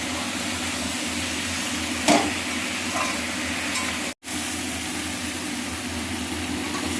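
Tomatoes, potatoes and drumstick pieces sauté in oil for a Bengali fish curry, a steady low sizzle and hiss running throughout, broken by a couple of soft stirring scrapes and one brief dropout.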